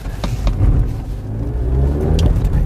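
A Mazda CX-5 AWD compact crossover SUV pulls up a hillside, its engine droning steadily under load at close range with a continuous, moderately loud rumble.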